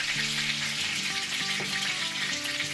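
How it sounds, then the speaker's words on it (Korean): Steak sears with garlic in a hot pan, a steady loud sizzle with faint background music, no voices. "마늘과 함께 또다시 3분을 구워준 후 익었는지 대충 살펴보고 고기를 건져줍니다"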